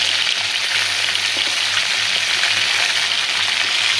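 Large rohu fish pieces fry in oil, giving a loud, dense and continuous sizzle that holds steady throughout with no voices.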